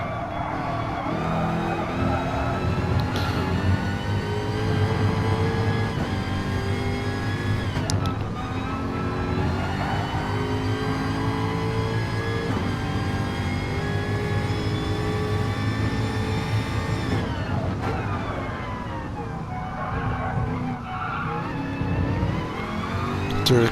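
A race car in Gran Turismo laps Laguna Seca, its engine revving hard and steadily, with pitch swooping up and down through gear changes and corners. The loud, continuous drone rises and drops for the whole lap.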